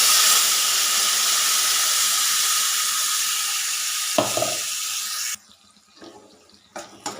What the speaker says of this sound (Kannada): ಹಸಿ ವಾಸನೆ ಹೋಗೋವರೆಗೂ ಫ್ರೈ ಮಾಡ್ಕೊಳ್ಳೋಣ.